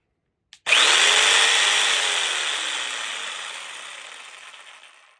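Jigsaw starting up with a click and then cutting, a loud, close buzzing rasp that holds steady and slowly fades over several seconds.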